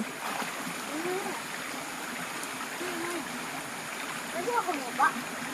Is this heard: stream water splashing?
yes